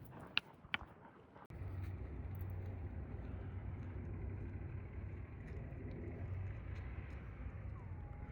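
A car cabin rumbles with steady low road noise. A couple of brief clicks come first, then an abrupt shift to constant driving hum that holds with no talking.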